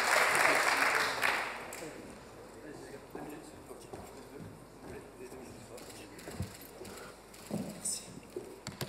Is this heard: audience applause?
yes